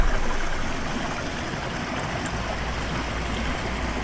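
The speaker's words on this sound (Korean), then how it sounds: "구천동의 맑은 공기와 물, 이 해맑은 물소리가 몸 전체로 전해져" A clear mountain valley stream at Gucheondong on Deogyusan in Muju rushes in spring, a steady, full wash of flowing water that stays even and close throughout with no voices.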